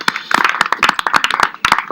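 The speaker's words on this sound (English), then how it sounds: "Let's give them all a round of applause." Close, crisp clapping from an audience applauding contestants, individual sharp hand claps standing out in a loose, uneven rhythm rather than a dense wash.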